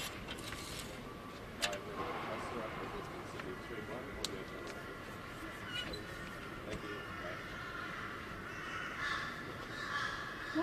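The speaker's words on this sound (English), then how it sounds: "Noisy crows this morning, aren't they?" Crows caw repeatedly from some distance on a morning outdoors, their harsh calls scattered across a steady background murmur with faint voices.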